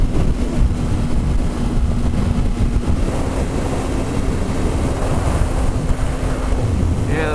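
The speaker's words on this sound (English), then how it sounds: "the wind today is quite nasty" Strong, steady wind buffets a motorbike on an exposed desert road during a storm, a continuous roaring rush with gusty low rumble and a faint steady engine hum underneath, loud and unbroken throughout.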